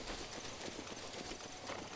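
Horse hooves clip-clop in a steady trot in The Legend of Zelda: Breath of the Wild, a rhythmic game sound set against a dense, hissy background.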